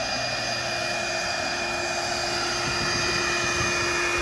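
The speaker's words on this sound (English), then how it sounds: "the vacuum's doing a really nice job with the deep end and all the rest of it" A vacuum runs steadily while a new pool liner is fitted, a constant loud whooshing drone with a steady whine, unchanging throughout and with no talking.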